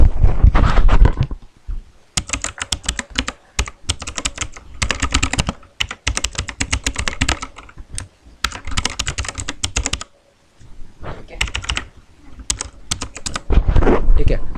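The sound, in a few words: typing an email address on a computer keyboard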